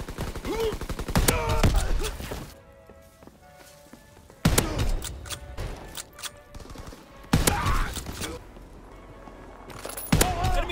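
Shotgun blasts in Call of Duty come as a few loud, sharp booms spaced several seconds apart, each with a short ringing tail, amid quieter game noise and talk.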